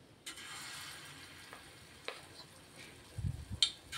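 Food frying in a pan on a home stove, a faint hiss running throughout, with a few light scrapes and a couple of soft thumps near the end as pieces are turned or lifted.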